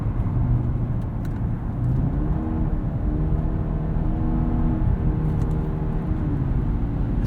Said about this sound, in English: Pretty surprised at how quickly this downshifts.